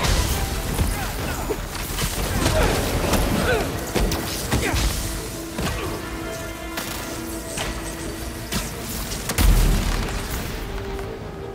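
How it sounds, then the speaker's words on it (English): Explosions and heavy booms from grenades going off in Spider-Man 2 on PS5, with several loud impacts and crashes over dense game noise, the biggest burst near the end. "Grenade!"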